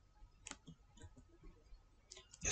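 A command is typed on a computer keyboard in Windows 10 as a few scattered, quiet key clicks, close by, ending in a louder burst of presses.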